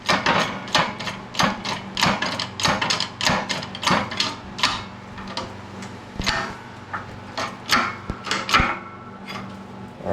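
Bearings being pressed onto a differential in a workshop press: a steady series of sharp metallic clanks and knocks, loud and close, repeating in an uneven rhythm with no talking.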